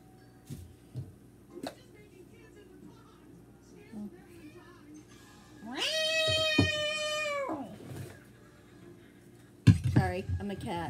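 A person imitates a cat with a long, loud, drawn-out meow that stands out against quieter household sounds in a kitchen during cooking, with brief bumps and a short burst of talk near the end.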